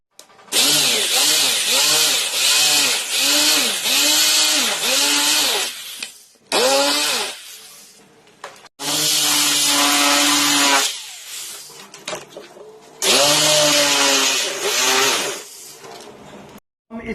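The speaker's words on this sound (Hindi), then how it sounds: "हम इस वर्मे से सुराख करेंगे," Power drill with a 16 mm bit boring holes for a fiberglass door frame, loud high whining bursts with rising and falling pitch, several separate runs of one to five seconds broken by short pauses, close up.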